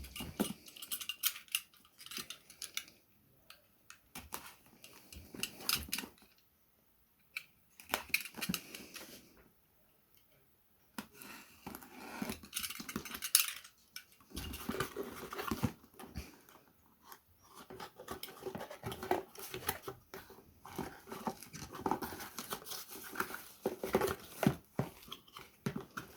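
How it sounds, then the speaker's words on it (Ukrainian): Crinkly rustling and tearing of a Braun MQ50001MWH blender's packaging close by, in irregular bursts separated by short silences, with plastic and cardboard handled throughout. "Ось так виглядає упаковка. Розпаковуємо"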